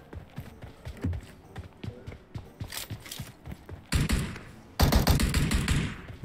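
Scattered gunshots in the mobile battle royale game PUBG Mobile, sharp cracks of varying loudness spaced irregularly, with louder bursts near the end.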